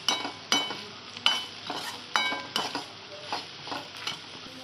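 Spices and salt stirred through a masala in a pan while preparing butter rice, a spoon scraping in a steady series of nine or ten close, distinct strokes with light clinks over a soft sizzle.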